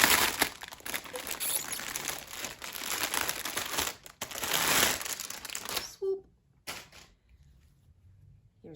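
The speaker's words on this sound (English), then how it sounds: "So the tartan throw, let's get it out of this plastic." A tartan throw pulled from its plastic wrapping, with close, steady crinkling and rustling of plastic for about six seconds, then a few brief rustles and quiet.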